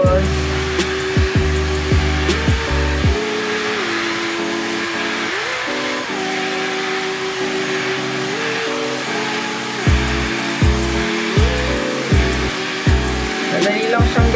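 Dyson Airwrap hair styler blowing on its hottest setting, a loud steady whirring airflow with shifting motor pitch and a few bumps and handling knocks, no talk over it.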